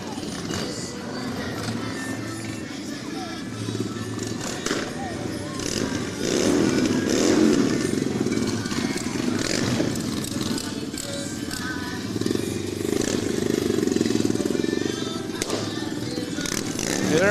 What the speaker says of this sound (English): Second motorcycle gang of the night.